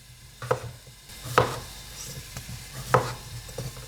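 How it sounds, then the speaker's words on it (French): A knife cuts organic potatoes into halves and quarters: three separate firm, close thuds on a board with short pauses between them, in a quiet kitchen. "je vais simplement les couper en fonction de leur taille,"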